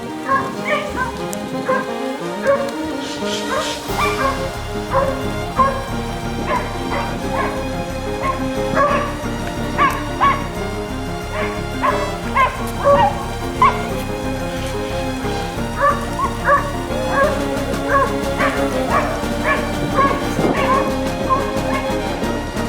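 Several hunting hounds bay and bark over and over in an excited, overlapping chorus above a steady background hiss, during a fox hunt.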